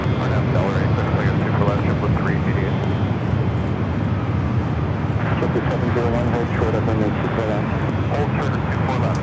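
A JetBlue Airbus A321 departs Los Angeles airport, its jet engines making a broad, steady roar throughout while someone talks over it and radio chatter breaks in.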